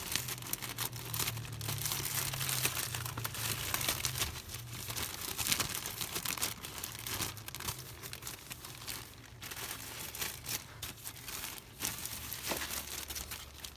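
A cabin pollen filter for a Toyota Corolla pulled from its plastic bag, giving continuous close crinkling and rustling of thin plastic with sharper tearing crackles throughout, no voices.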